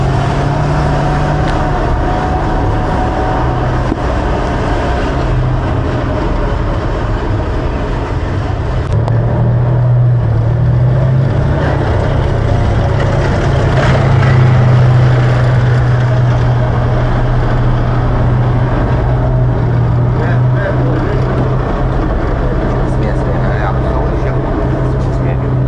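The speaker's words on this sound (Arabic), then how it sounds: "انتشار دبابات في قرية تفرومة" Tanks and military vehicles deployed in the village of Kafruma, Idlib, hold a loud, steady engine drone and idling rumble that swells midway, with people talking over it.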